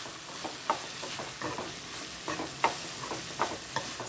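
Chili powder frying in a pan for tamarind stew, with a soft continuous sizzle broken by several sharp stirring scrapes, close and clear with no voices.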